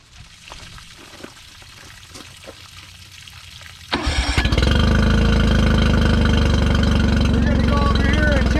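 A Tohatsu 9.9-20hp outboard motor, set up for an oil and gear lube change, starts after quiet clicks and handling sounds and then runs close and loud, a steady idling drone with a watery splashing layer.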